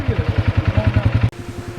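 A desert bike at the sand dunes of Hunder in Ladakh idles up close with a fast, even, rhythmic thumping, loud and alone, its pulse shifting slightly after a brief break near the end.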